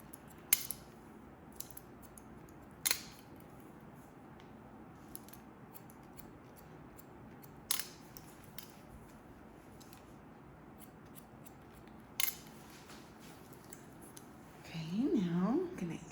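Scissors snip hair during a pixie cut. Four isolated, sharp snips are spaced far apart over quiet room noise, and a voice speaks briefly at the end.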